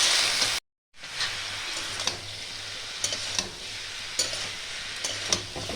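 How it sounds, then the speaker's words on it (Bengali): Bottle gourd greens are stirred in a frying pan, with a steady sizzle broken by a brief cut and by intermittent scraping taps of the utensil. The sounds are close and fairly quiet, with no talking. "শাকটাকেও ভালো করে আমি নাড়িয়ে চাড়িয়ে নেব।"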